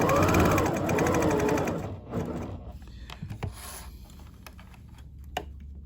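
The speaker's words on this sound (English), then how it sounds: "I'm using my needle in the down position here on the machine" A sewing machine runs a fast, steady stitching burst along a fabric mask seam, then stops, followed by light handling of fabric and small clicks nearby.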